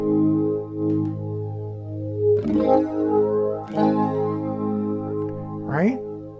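A Dimension D chorus plugin is switched on over a plucked instrument, giving sustained, shimmering harmonic tones with a widened, layered texture, with short pitch-bending flourishes near the end, and a voice talking over parts of it.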